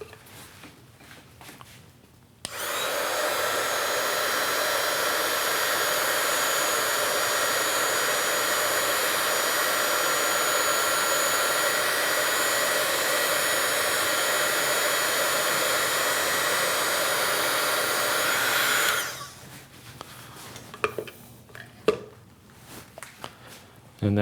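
A heat gun shrinking heat shrink tubing onto a wire in a workshop, a loud, steady blowing roar lasting about sixteen seconds before switching off, with faint clicks and handling sounds before and after.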